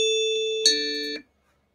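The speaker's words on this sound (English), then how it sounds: "I can hear your ding dong." A two-tone ding-dong doorbell chime plays through a speaker during a speaker test, a clear, sustained electronic ding followed by a lower dong that cuts off cleanly into silence.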